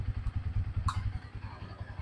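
A Bajaj Pulsar N160 motorcycle with the N-series engine, a 2023 model in top condition, idles steadily with a low, pulsing engine throb close by, plus a brief clatter partway through.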